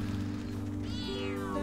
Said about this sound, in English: Oh, it's the garbage cats.